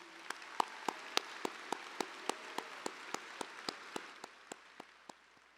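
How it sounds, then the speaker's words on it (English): Slow, sparse clapping at a high school commencement for the school band and chorale, a steady series of distinct single claps that gradually fade, faint and without crowd noise. "Can we please give another round of applause to our Parkland High School band and student performers in the chorale, please?"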